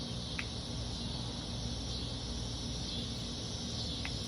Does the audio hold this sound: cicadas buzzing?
yes